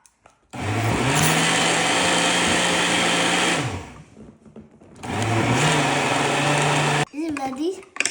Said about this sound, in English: Can you blend it?